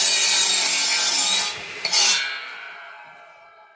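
Timber cut to fit a noggin for a cottage staircase: a hand saw rasps steadily through the wood, close and loud, then stops, followed by a brief knock and a fading ring.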